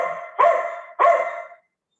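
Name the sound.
dog barking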